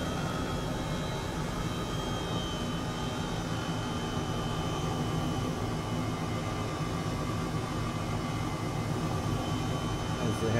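Airbus H135 helicopter in Microsoft Flight Simulator 2020 over Dubai: a steady, loud, broadband rotor and turbine roar with a whining tonal hum, constant throughout with no pauses.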